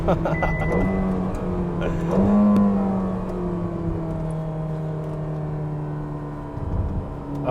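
Turbocharged Ferrari engine revving up and pulling hard, a rising drone that then settles into a steady cabin hum with brief talk.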